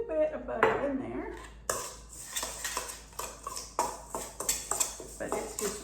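A utensil scrapes and clinks rhythmically against a baking dish as mostly dry ingredients for an apple raspberry casserole are mixed, the strokes close and repeated after a few louder knocks.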